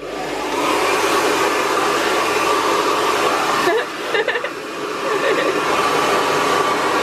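A GHD Air hair dryer blows as a steady, loud broadband whoosh that runs almost the whole time, briefly dipping and sputtering near the middle before resuming at full strength.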